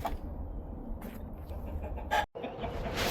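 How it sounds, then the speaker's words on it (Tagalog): Chickens on a small farm clucking at morning feeding time, a steady flock chatter with a few louder calls standing out, close and continuous, with no talking. "We are feeding the chicken now."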